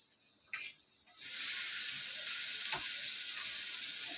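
Tomato tipped into a pan of roasted onion for Malvani-style vangyache bharit, a brief clatter followed by a loud, steady sizzle that rises and holds without talk.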